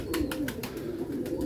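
A pigeon coos close by in a soft, low, rolling rhythm, with faint clicking and rustling sounds that repeat throughout.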